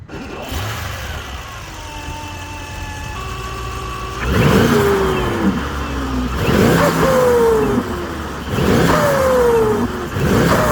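The 4.0 V8 hybrid engine of a W223 Mercedes S63 AMG with 802 hp accelerates hard through several gears, rising tones broken by shift pauses, growing louder and rougher with each pull.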